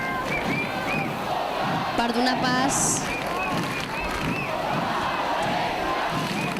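A crowd at the Sitges Festa Major cheers, shouts and claps during the final dance of the fire-breathing dragon and eagle, a dense roar of outdoor voices with a commentator talking over it.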